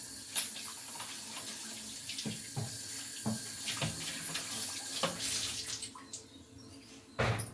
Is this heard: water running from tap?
yes